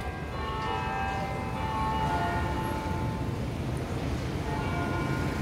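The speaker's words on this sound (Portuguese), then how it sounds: "Tá o barulho dos sinos aqui" Church bells ring steadily with sustained, overlapping tones over a busy outdoor street ambience at Largo do Paço.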